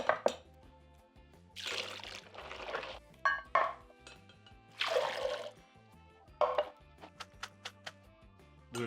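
Liquid from an opened can of low-sodium chickpeas pours out in several splashy bursts in a home kitchen, with brief drips and gurgles between pours over soft background music.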